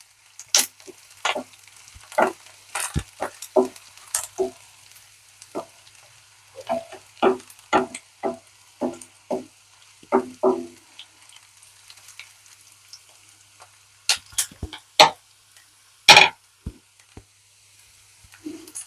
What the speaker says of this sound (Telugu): కొంచెం లైట్గా కలర్ స్టార్ట్ అయింది పెసరపప్పు వేగడం స్టార్ట్ అయిందండి